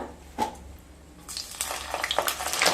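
A spoonful of ginger paste drops into hot oil with cinnamon for a mixed vegetable curry; after a near-silent start with a brief clack, a crackling sizzle swells and grows louder to the end, with no speech.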